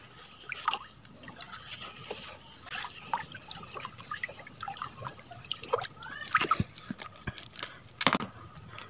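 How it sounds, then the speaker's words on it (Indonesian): Water is stirred by hand to make liquid organic fertilizer, giving soft, irregular sloshes, trickles and small splashes close by at low volume. "Lalu air ini kita aduk."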